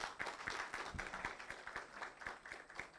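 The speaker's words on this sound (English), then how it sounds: "let's give a great applause for Shravan" Faint, scattered clapping rises from an audience at a tech conference session, steady light claps running for a few seconds at low volume.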